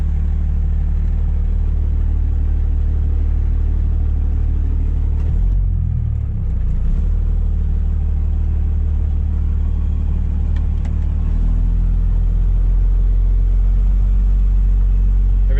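Diesel drag race truck engine idling with a deep, loud rumble, rising briefly into a rev midway before returning to a heavy, steady idle, with no talk.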